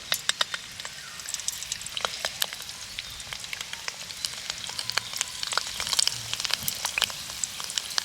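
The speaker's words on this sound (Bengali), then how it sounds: "এবার পকোড়াগুলো একে একে আমি তেলের মধ্যে ছেড়ে দেব।" Sago pakoras frying in hot white oil in a wok give a steady close-up sizzle with scattered sharp crackles and pops throughout, no voices.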